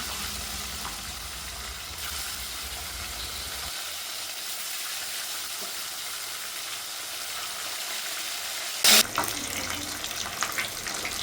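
Fish sizzling as it goes into hot refined oil in a pan, a steady broadband hiss with a sharper splash burst near the end, fairly close and continuous with no talking.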